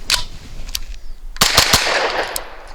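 Grand Power Stribog SP9 A3 9mm carbine firing 147 grain Gold Dot hollow points, a few loud close shots, a single then a quick cluster of three reports with ringing tails.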